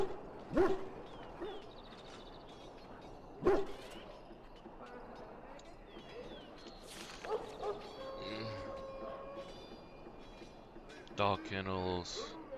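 Dogs at kennels in Dragon Age: Origins bark in a few scattered bursts, mid-distance, over an ambient camp background with some game voices and effects.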